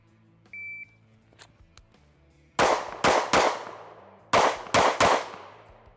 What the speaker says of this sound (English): I'm gonna do 3 rounds on the left target and then 3 rounds on my right target.